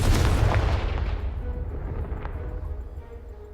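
A Confringo blasting spell in Hogwarts Legacy blows apart a piled-up blockage with one loud, booming explosion at the start, its rumble and debris slowly fading over a few seconds.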